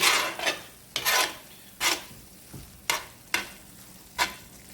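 Cajun chicken, sausage and rice are stirred in a skillet. About seven distinct scraping strokes land at irregular intervals over a soft background sizzle.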